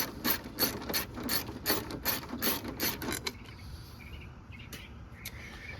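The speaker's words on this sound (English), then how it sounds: "we are going to remove this first bolt here that goes into the frame" A ratchet with a 12 mm deep socket loosens a frame bolt on a 1996–2002 Toyota 4Runner, producing a run of quick rhythmic clicks for about three seconds, then quieter scattered ticks.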